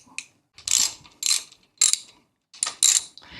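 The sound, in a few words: ratchet with 10mm socket removing triple tree bolts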